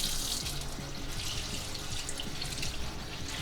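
Icelandic lumpfish caviar is rinsed under a running tap, giving a steady, close splashing stream of water with no voices.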